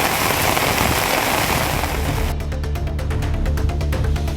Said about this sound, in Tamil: சென்னை கிழக்கு கடற்கரை சாலையில் திடீரென இரவில் கனமழை பெய்தது.